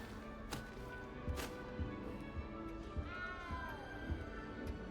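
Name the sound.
cat meowing in the video game Hogwarts Legacy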